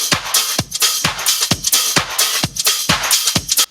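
AI-extracted house drum loop, EQ-filtered to cut the kick and low end, plays as a bright top loop of hi-hats and percussion hits in a steady, quick rhythm, loud and alone.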